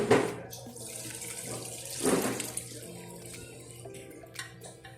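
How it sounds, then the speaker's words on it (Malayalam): Water pours from freshly cooked rice as it is drained, making a running, splashing gush that swells twice, close by, with a faint voice at moments. "അപ്പോൾ ചോറൊക്കെ ഒന്ന് ഊറ്റുന്നുണ്ട് കേട്ടോ"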